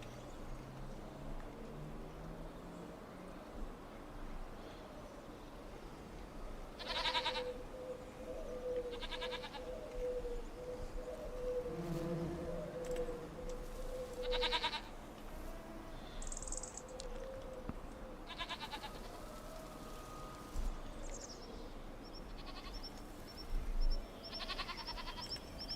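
Goats on a rocky farm in Farming Simulator 25 bleat intermittently at a moderate distance over a constant bed of cricket-like insect buzz, with a few separate calls spread across the scene.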